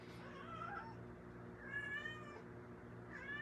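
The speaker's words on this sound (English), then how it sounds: "Some meowing." A cat meows three times, drawn-out and plaintive, with short gaps between calls, fairly quiet over a low background hum.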